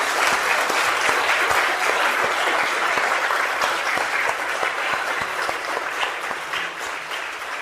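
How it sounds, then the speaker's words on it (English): A lecture audience breaks into sustained applause after a talk on verse, with dense steady clapping that fades only slightly over about eight seconds. "I think we should give a round of applause to thank our"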